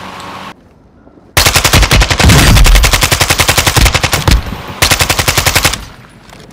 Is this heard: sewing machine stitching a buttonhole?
no